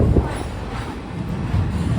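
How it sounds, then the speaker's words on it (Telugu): The Simhapuri Express pulling in alongside a stopped train at Tenali Junction, a loud continuous low rumble of rolling rail cars close by, without clear breaks. "మన ట్రైన్ పక్కనే సింహపూర్ ఎక్స్ప్రెస్ ట్రైన్ కూడా వచ్చింది"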